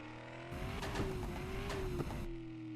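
A car in a Turkish car-dealership video game revs and squeals its tires for a few seconds, engine tone rising and falling loudly with a sharp skid, no talking.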